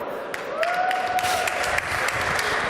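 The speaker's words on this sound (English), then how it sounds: "So please give a round of applause to Klaus Konrad." Audience applause greets Klaus Konrad, guest speaker at the LOGIN Startup Fair 2014: a steady, dense wash of clapping from a crowd in a hall, filling the room at even loudness with a faint tone running briefly underneath.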